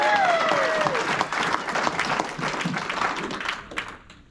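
A wrestling club gala audience gives a dense round of applause with a few whistles early on, the clapping holding strong before thinning out and fading toward the end.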